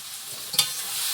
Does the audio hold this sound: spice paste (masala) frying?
yes